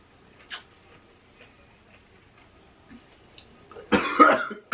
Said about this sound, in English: I coughed all over the food.